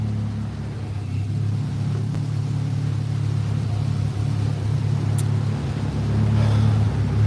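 A Mazda NC Miata engine with an open, chassis-mounted exhaust idles with a deep, steady rumble that swells slightly near the end, loud and close.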